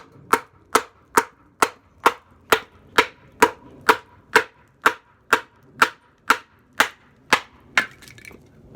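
A Ka-Bar USMC knife is batoned through hard wood, sixteen sharp, evenly spaced wooden knocks landing about every half second, loud and close, with nothing else in between.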